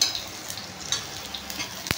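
Onion, green chilli and garlic frying in a pan while making a fried kalmi (water spinach) dish, with a steady close sizzle, occasional stirring scrapes and a sharp utensil clink near the end.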